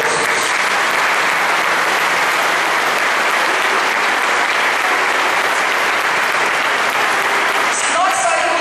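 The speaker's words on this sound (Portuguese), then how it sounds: "Vamos aplaudir o Evangelho de Jesus." Loud, sustained applause from a Catholic Mass congregation in a parish church in João Pessoa, a dense steady roar of clapping hands that fills the whole stretch without letting up.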